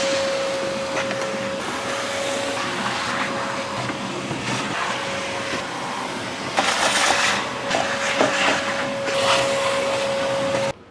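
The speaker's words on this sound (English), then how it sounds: "I'm gonna vacuum all this up as well as the door, like the inside of the door" A shop vacuum runs steadily while cleaning dust and chips out of a CNC router enclosure and the inside of its door, a constant close whine with a slightly louder, rougher stretch near the end as debris is sucked up.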